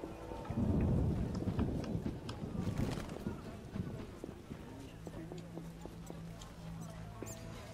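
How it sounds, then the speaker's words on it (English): Steady rain with rumbling thunder in the video game The Witcher, a loud dense wash early on that settles into a softer patter, with scattered light knocks and a low hum underneath. "It rains and it pours."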